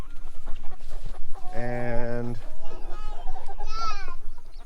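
Red Star and Bielefelder hens cluck nearby, with one loud, drawn-out squawk in the middle and softer chatter after it, while a person briefly speaks.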